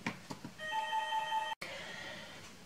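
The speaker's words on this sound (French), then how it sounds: "j'oublie toujours d'éteindre le téléphone, enfin de le débrancher" A landline telephone rings in a quiet room, a steady electronic tone lasting about a second, cut off abruptly, with faint background noise around it.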